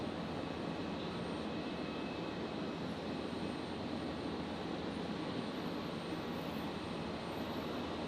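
Emirates Airbus A380 in Dubai livery pushing back from gate 73 at Brisbane International on a night shift, its engines a steady, even broadband rumble and hiss from a distance, unbroken for the whole stretch with no voices.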